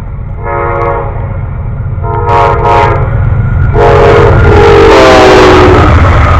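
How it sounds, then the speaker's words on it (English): An Amtrak Silver Star passenger train approaches and roars by, sounding its horn in repeated blasts that grow louder and closer toward the end. "Amtrak train to Silver Star."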